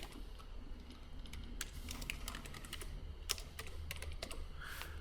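Fingers type on a computer keyboard while entering text commands in AutoCAD 2020, a close, busy run of light clicky keystrokes over a low room hum, with a few sharper key hits and no speech.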